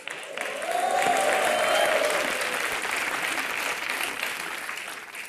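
A studio audience at a TV comedy show breaks into broad applause that swells quickly, holds steady, then eases slightly, with no talk over it.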